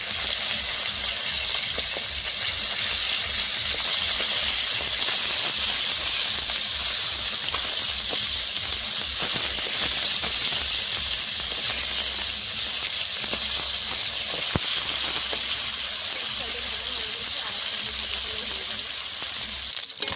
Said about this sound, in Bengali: মাছগুলো ভেজে দেবো।